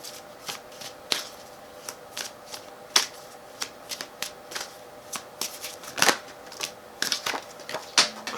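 Cards are shuffled repeatedly, with irregular crisp riffling snaps and flicks, close up and fairly sharp against a quiet background.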